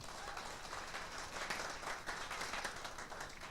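An audience at a business sharing session in Kuala Lumpur answers with a round of applause, steady dense clapping at moderate distance that holds evenly for a few seconds.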